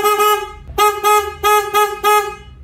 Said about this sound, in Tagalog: so nakakabit na ating busina.